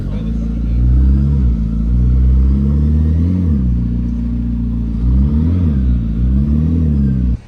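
A McLaren P1 GTR supercar on a public road gives a loud, deep engine drone that rises and falls in pitch with revving swells. Close to the listener, with no talk over it.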